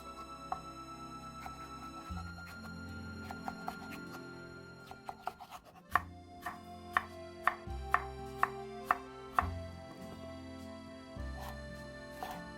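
A knife chops seeded cucumber into small nail-sized squares on a board, with a run of sharp, evenly spaced cuts in the middle stretch over steady background music.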